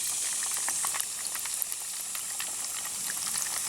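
Chicken pieces deep-frying in hot oil in a Hungarian mess kit pan, a steady dense sizzle with scattered pops and crackles throughout, close and continuous with no talking.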